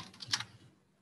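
A few quick, light mouse clicks on a plus button while building component states in Adobe XD, close and dry, fading into near silence after half a second.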